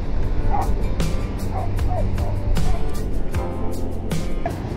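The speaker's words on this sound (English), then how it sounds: "So he's hit the beach. He starts barking." A dog barks a few times on a beach at Bandon, Oregon, short sharp yelps scattered over steady surf and wind noise, moderately close.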